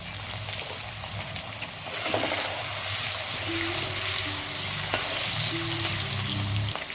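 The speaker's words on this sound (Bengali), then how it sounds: "আলুটা ভেজে নেব" Potato pieces, salted and dusted with turmeric, fry in hot oil in a pan with a steady, close sizzle and crackle throughout, faint gentle stirring now and then, no voices.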